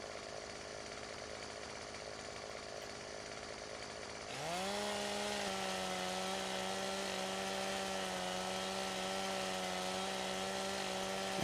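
A chainsaw in Farming Simulator 17 starts up partway through and runs steadily at high revs, cutting trees with a loud, sustained buzzing whine and no talk.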